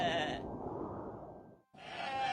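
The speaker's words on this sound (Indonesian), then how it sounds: "Kambing-kambing milik Amir yang berjumlah sangat banyak meninggalkan jejak yang bertumpuk di atas tanah." Goats in a large herd bleating in a loud, close, continuous chorus of overlapping cries that cuts off sharply for a moment before resuming.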